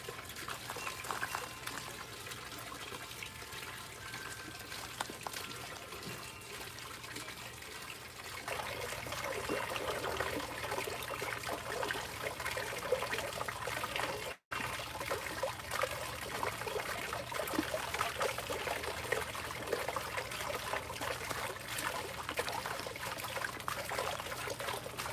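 Water pours steadily into an outdoor pond being winterized, making a soft continuous trickling and splashing that grows a bit fuller partway through, with one brief cut of silence and no speech.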